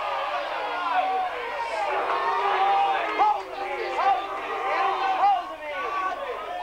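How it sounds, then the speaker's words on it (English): The crowd at a 1988 first grade rugby league grand final between C.C.E.S and Macquarie murmurs and shouts close by in a steady babble, with voices rising and falling throughout. "You can hear the crowd right in front of us here in the microphone."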